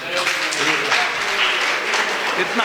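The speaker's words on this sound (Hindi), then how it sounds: "बजाओ ताली माता बहनों के लिए" An audience at a yoga talk in Seoni claps in a sustained round of applause for mothers and sisters. The applause is dense, loud and even throughout.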